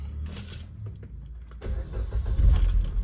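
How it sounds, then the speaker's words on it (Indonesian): A 2015 Suzuki Ertiga GX car engine cranks and catches, then settles into a low rumbling idle that swells louder toward the end, heard close with no talking. "Kemudian tak hidupkan mesinnya, Bren."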